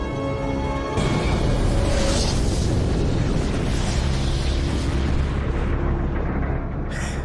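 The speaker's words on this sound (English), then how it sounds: "that was a big explosion" Missile exploding in a Stargate SG-1 episode: a sudden loud boom followed by a long, heavy rumbling roar that fills several seconds before cutting off abruptly.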